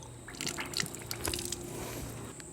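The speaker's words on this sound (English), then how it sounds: "Now you can open the tap and drain the line." Water drains and drips from an opened outdoor garden tap, a cluster of close, quiet irregular drips and trickles over a faint steady background, without talk.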